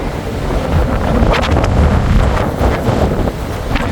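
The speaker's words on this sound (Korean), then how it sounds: "어이구 바람이 불네." Strong wind roars and buffets the microphone on a snowy mountain ridge in March, a continuous loud rushing that swells and eases without letup.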